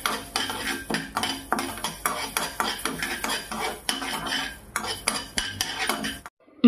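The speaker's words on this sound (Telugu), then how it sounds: "వేసి కొంచెం దోరగా ఫ్రై అనేది చేస్తున్నాను." Mustard seeds, fenugreek and cumin being dry-fried and stirred in a pan: a quick, busy run of close spoon clinks and scrapes against the metal, with no talking.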